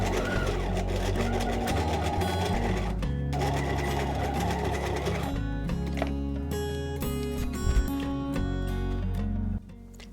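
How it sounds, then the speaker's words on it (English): Sewing machine stitching down the top and outer edges of a pocket on a blanket hoodie, a steady loud mechanical whir running almost continuously in several long bursts with brief changes in pace, no talking. "I'm going to sew down now this top edge and every other edge apart from the diagonals that we just sewed."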